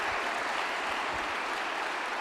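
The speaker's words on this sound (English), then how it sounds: "So just round of applause for Féiceáil." Audience applause at a wallball championship final, a steady wash of clapping from a modest crowd, even in level and held throughout with no talk over it.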